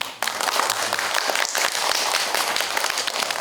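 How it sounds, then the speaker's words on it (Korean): Audience at a public science lecture on thermal management for spacecraft and electric cars bursts into applause for a student, sudden onset then sustained dense clapping with a few sharper claps, fairly close. "박수"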